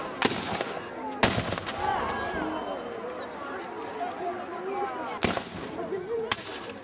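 Cannon fire at a historical battle reenactment: several sharp booming blasts from French artillery pieces, one near the start and others spaced several seconds apart, ringing out over a murmuring crowd of spectators talking.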